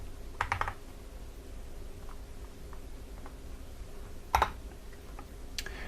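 A command being typed on a computer keyboard into a console, heard as a few quiet clusters of close key clicks separated by pauses, faint and alone with no talking.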